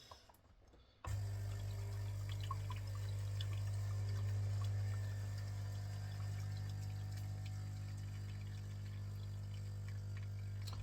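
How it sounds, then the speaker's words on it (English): A Saeco Incanto coffee machine pumps a water and vinegar mix through its system, giving a steady low pump hum with trickling and dripping water that starts abruptly and runs continuously, no voices. "I will rinse the entire system with water and vinegar"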